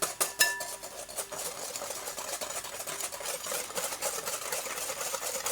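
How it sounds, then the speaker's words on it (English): Whisk beating six egg yolks and caster sugar in a bowl: a quiet, steady run of rapid light clinks and scrapes lasting several seconds, with no voices. "we're going to get our 6 egg yolks and another 50 grams of caster sugar into a bowl, and that's going to be whisked up"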